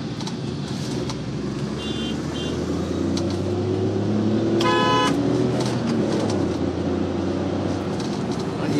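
Busy morning traffic with steady road and engine rumble from cars in an Alto VXI Plus drive, and a short, loud car horn honk sounding near the middle, with faint talk mixed in.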